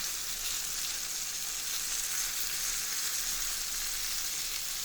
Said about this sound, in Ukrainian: Ось як шкварчить гарненько.